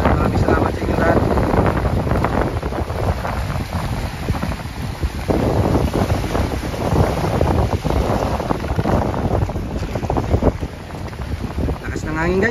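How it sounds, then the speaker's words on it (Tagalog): Strong amihan monsoon wind gusting across Boracay beach, a constant loud roar and buffeting rumble on the microphone that swells and dips in gusts, with surf and general beach noise blended underneath. "Lakas ng hangin guys, lakas ng amihan."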